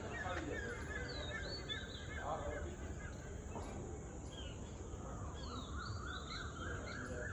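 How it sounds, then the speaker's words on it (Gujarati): Crows caw and other birds call around the Pari pond inside Motibaug garden in Junagadh, the faint calls scattered over a soft, steady outdoor background. "પક્ષીનો કલરવ"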